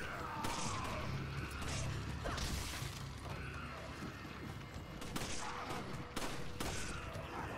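Gunfire in the video game Resident Evil 5 crackles in rapid bursts over a dense, busy game soundscape with clanks and impacts, fairly muffled and layered rather than crisp single shots.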